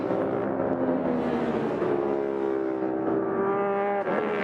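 A KTM Duke motorcycle screams past at a CVMA road race, its engine a loud, steady high-revving whine that holds close and strong for several seconds with slight pitch shifts as it accelerates down the straight.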